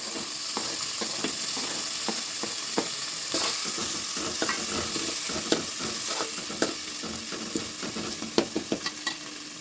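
Masala for chicken curry sizzles steadily in a pan while a spoon stirs it, with irregular scrapes and clicks against the metal that grow busier toward the end, close and alone without speech.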